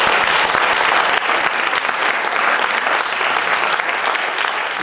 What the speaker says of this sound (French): je pense que tout le monde peut les applaudir.